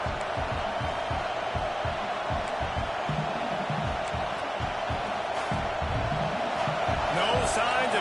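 Dense roar of a packed football stadium crowd during a fourth-down play between Purdue and Texas, steady and loud throughout, swelling slightly toward the end.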